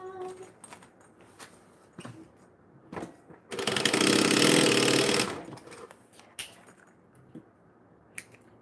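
A sewing machine stitches fabric in one steady, fairly loud burst of about two seconds in the middle, with quieter handling clicks and rustles before and after.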